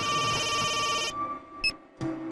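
A telephone rings with a steady electronic tone, then cuts off, followed by a couple of brief beeps and a short thump.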